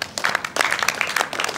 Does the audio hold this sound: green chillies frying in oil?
no